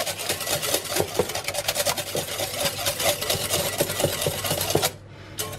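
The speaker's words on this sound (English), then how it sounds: "we're just going to whisk up this egg white until it's nice and frothy and foamy, and just do it by hand" An egg white is hand-whisked in a bowl until frothy, giving a steady, rapid, close clattering rhythm of the whisk throughout, then a brief drop in level near the end.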